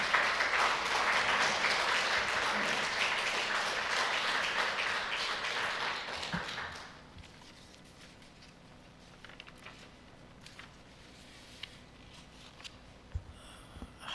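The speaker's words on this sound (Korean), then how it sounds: "우리 목사님 나오실 때 박수로 환영하겠습니다." Church congregation applauding to welcome the pastor, loud sustained clapping from a crowd for about seven seconds, then fading to a quiet room with scattered small noises.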